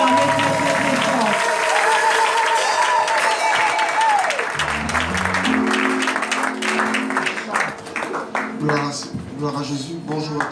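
A church congregation applauds and cheers for a pastor, sustained broadband clapping with a swelling crowd roar, while voices and singing-like tones carry through underneath from start to end.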